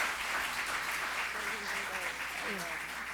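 An audience at a community meeting applauds a district councilor, a steady wash of clapping from many hands with voices talking over it.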